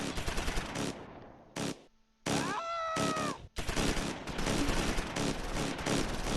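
Bursts of machine gun fire from a Close Combat IV battle, loud dense rattling volleys in several stretches broken by brief gaps, with a sharp warbling tone in the middle.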